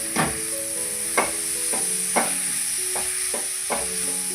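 Chopped tomatoes for a Kerala-style chicken curry stirred in a hot pan, with a constant hissing sizzle and about seven soft spoon scrapes spaced under a second apart, close and moderately loud, no voices.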